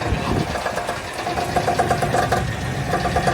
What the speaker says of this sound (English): Engine's running. Sounds as normal, terrible.